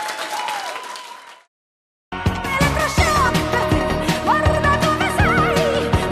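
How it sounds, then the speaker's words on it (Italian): Audience applause at an Italian Christmas television show, a first burst fading into a brief silence, then a loud, sustained wave of clapping with music and voices mixed over it. "Bravissimi, l'applauso di tutti noi."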